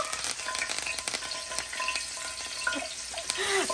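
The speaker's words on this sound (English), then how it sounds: "So I am adding a couple of pieces of Scotch bonnet pepper to my pot" Pieces of Scotch bonnet pepper and thyme frying in hot oil in a pot for Jamaican-style fried snapper: a steady, crackling sizzle with bursts of popping and stirring, close and fairly loud, with no talking.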